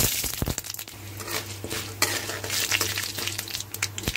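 Mustard seeds, urad dal and chana dal frying in oil for a tempering, a close bright sizzle with crackling pops, mixed with a spoon clinking and scraping against the metal pan.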